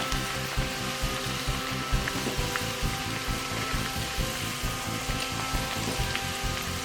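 Lentils (dal) deep-frying in oil on high heat, a dense steady bubbling crackle that fills the space close up, with faint rhythmic pulsing and no voices.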